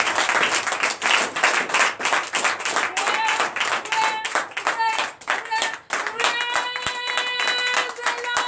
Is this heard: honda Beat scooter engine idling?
no